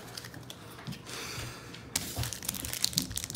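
Trading card booster pack wrapper being torn and crinkled open, close crackly rustling in short bursts with no talking.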